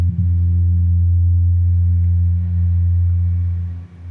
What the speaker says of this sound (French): J'ai aussi des effets, je peux mettre si je veux de la reverb.